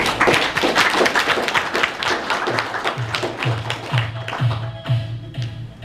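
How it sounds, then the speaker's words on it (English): An audience at a business meeting applauds as a man is called up for testimonials. Steady, dense clapping runs throughout and stays loud, with a few individual claps standing out as it continues. "Let's give him a round of applause."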